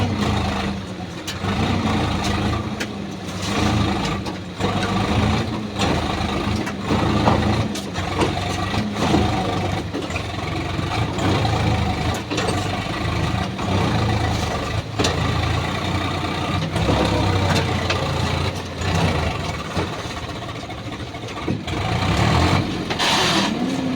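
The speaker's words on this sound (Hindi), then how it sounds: "ये देखो इस नर्मदा जी में ट्रैक्टर फंस गया है।" A tractor engine stuck in the Narmada river runs continuously, a loud rough rumble with irregular surges and clatter against a broad background wash and no talking.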